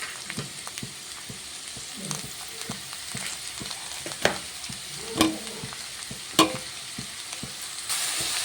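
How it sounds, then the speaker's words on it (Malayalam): Sliced onions frying in hot oil in a pan for chicken curry, a soft steady sizzle broken by scattered stirring scrapes and clicks, heard up close with no talking. "അപ്പോൾ നമ്മുടെ വേണ്ട സബോള ഞാൻ ഇട്ട് കൊടുത്തു, അത് വഴന്ന് വരുന്നുണ്ട്."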